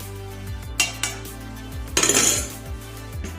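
Pickle ingredients for an amara (hog plum) pickle with vinegar are stirred in a metal bowl, a spoon clinking and scraping against the sides in a few sharp knocks and rattles, close up.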